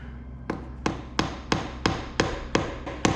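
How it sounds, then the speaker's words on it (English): Sharp metal-on-metal hammer blows drive a screwdriver into the oil filter of a 2007 Kawasaki ZX6R motorcycle, landing one after another at a steady pace, eight strikes close by with no talking. "what we are just doing is knocking a hole in the filter"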